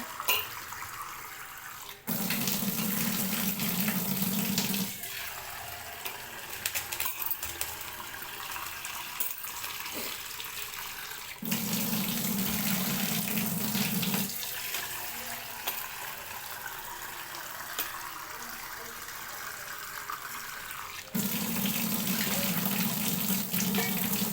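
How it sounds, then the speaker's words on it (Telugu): Running water from a tap splashes steadily for the whole stretch, with louder bursts as the flow is turned up, while thummi leafy greens are swished and rinsed in it to remove soil. "ఇలా తుమ్మి కూర మునిగే వరకు వాటర్ అయితే పోసుకొని ఇలా కూరని ఇలా అనుకుంటూ అయితే కిందికి మీద అనుకుంటూ కడగాలి"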